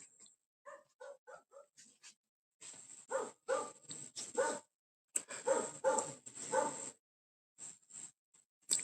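A distant dog barks in a series of short bursts and rapid volleys with brief pauses between, over a faint high-pitched whine.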